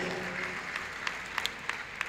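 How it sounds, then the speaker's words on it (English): Audience applause at a university inaugural lecture, a steady crowd clapping throughout with a few sharper individual claps standing out near the end. "A round of applause for him the custodian of the books of our institution"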